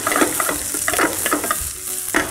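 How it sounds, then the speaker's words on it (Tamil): Small chopped onions and garlic sautéing in a pan for mutton thokku give a steady, close sizzle, broken by repeated scraping stirs of a utensil against the pan. "வெங்காயம் வதக்கியாச்சு."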